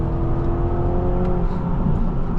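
A 2020 BMW Z4 sDrive30i M Sport's engine pulls hard under acceleration, heard from inside the cabin as a steady, rising drone with a smooth whir layered over a low rumble.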